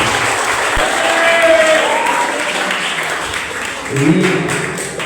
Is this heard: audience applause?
yes